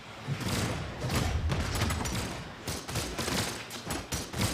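Cannon fire in a 2v2 fighting-game match on the Fortress of Lions stage, heard as a dense, loud burst of booming shots and impacts that repeat rapidly through the whole stretch with no talking over it.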